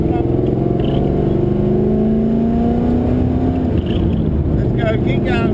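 V8 race car engine revving hard during hot laps at Pukekohe in Auckland, a loud steady drone with rising and falling pitch sweeps, close and continuous under occasional shouted talk.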